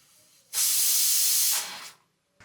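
A pressure cooker whistle blasts a loud, steady hiss of steam for over a second, then tapers off before stopping abruptly.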